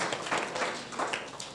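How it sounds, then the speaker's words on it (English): Audience applause for a graduate at a school graduation ceremony, steady dense clapping throughout at moderate distance, without clear speech. "You can applaud him if you want."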